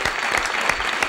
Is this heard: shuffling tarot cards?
no